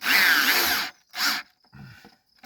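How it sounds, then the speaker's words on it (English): A corded electric drill whines loudly in two short bursts, then a lower grinding as it drives screws into wood for a raised bed, close by with no talking. "I've got an electric powered drill"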